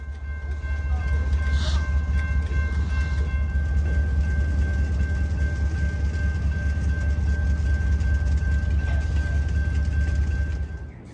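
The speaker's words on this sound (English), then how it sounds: "the brakes were released and the train was finally underway again" A train rolls steadily along the rails with a continuous low rumble and a sustained high tonal whine, loud and constant throughout.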